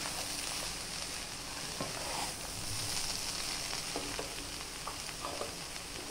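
Schezwan noodles with spring onion being stir-fried in a pan, a steady close sizzle with scattered scraping and clinking of the spatula against the pan, heard alone throughout.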